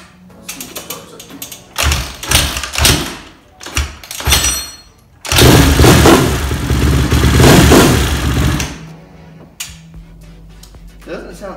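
A Honda CRF150R dirt bike with a faulty kill switch and suspected valve trouble starts and revs up close in repeated loud bursts, then holds a long high rev before dropping back, with people talking between bursts.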